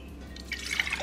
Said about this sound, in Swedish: Här har jag då en liten vatten, så det ska jag ta hela i kastrullen här.